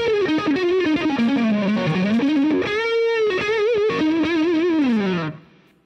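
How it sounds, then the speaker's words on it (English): Electric guitar on the neck pickup through a Boss DS-1 distortion pedal with the Monte Allums Tri-Gain Plus mod, gain fully up, playing a loud, saturated sustained melodic line with vibrato-like bends that fades at the end. "the sounds that you can get out of your Boss DS1 distortion pedal once you complete a Monte Allums DS1 Roxx Tri-Gain Plus mod"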